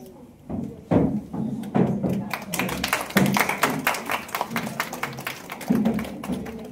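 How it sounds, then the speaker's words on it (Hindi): Scattered applause from a modest audience at a teachers' honour ceremony in Ahmednagar, irregular close claps building from sparse taps into a thin, uneven round with some thumps and murmuring voices. "इसलिए तालियों की आवाज कम आ रही है।"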